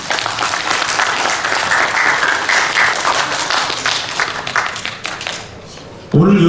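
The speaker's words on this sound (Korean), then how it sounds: "박수로 환영해 주시기 바랍니다." Crowd at a civic rally in Chuncheon applauds to welcome a South Korean soldier, sustained clapping that fades near the end before a louder burst of sound cuts in.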